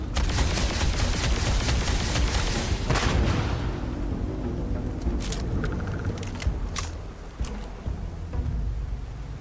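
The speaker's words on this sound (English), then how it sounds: "I am shooting all the bullets." Gunfire in Starfield: a dense burst of rapid shots that fades after a few seconds, followed by scattered, sharper single cracks, all fairly loud and close.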